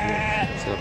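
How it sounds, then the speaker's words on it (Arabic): Local-breed ewes and lambs bleat at the Tuesday livestock souk in Azrou, a close, loud, wavering bleat filling nearly a second amid a dense market din. "النعجة بلدية خروف بلدي."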